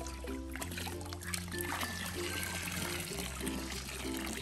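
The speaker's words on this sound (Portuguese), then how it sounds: "Forma até uma cascata, ó." Liquid pours and splashes continuously, a close, trickling cascade with faint background voices and noise.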